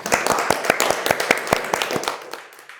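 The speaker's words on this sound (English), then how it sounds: "So great, a big applause to you, Jonas." Audience applause at the close of an academic lecture on travel satisfaction: a burst of irregular, fairly close handclaps from a small group that thins and fades out over about three seconds.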